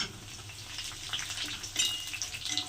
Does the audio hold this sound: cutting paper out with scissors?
no